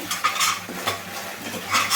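Tomato sauce, vinegar and soy sauce for Gobi Manchurian are mixed in a pan with repeated scraping stir strokes and a faint sizzle, each stroke close and distinct.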